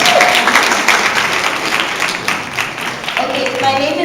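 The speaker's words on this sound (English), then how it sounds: "Can we just give them a round of applause for their debate?" Audience applause after a debate fills the hall, steady broadband clapping from many hands lasting throughout, loud and close, with a voice briefly heard over it.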